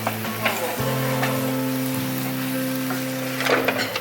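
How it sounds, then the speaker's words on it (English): Beef frying in a pan in a home kitchen, steady sizzle close by under a low tonal hum, with a couple of brief clinks and a short voice near the end. "So you see how we cook the beef?"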